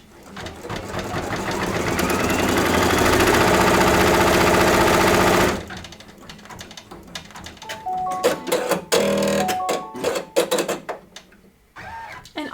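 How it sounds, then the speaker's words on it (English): A Babylock embroidery machine sews a tack-down stitch onto an appliqué shirt, a rapid close mechanical chatter building and running steadily for about five seconds, followed by intermittent clunks and shorter stitching bursts. "lock and start, and now it is doing the tack down stitch."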